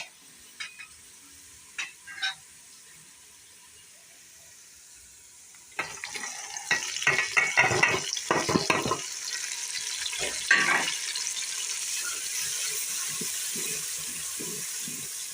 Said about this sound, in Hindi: अब हम इसमें मसाले भून लेंगे।